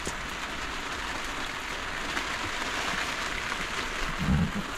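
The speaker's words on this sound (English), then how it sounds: "I wasn't expecting so much rain," Steady, dense downpour of heavy rain at Refuge Cove, a constant broadband hiss of drops hitting surfaces, close and loud with no voices.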